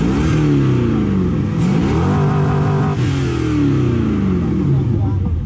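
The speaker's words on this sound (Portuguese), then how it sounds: "Motor de Camaro no Chevetão." A Chevette fitted with a Camaro engine revs repeatedly at a car club meet, pitch climbing and dropping in cycles, loud and close, with people talking over it.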